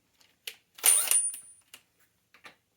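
A bike ratchet wrench being turned quickly during a bicycle build, giving a burst of rapid mechanical clicking with a few separate ticks before and after, close and fairly loud, without talk.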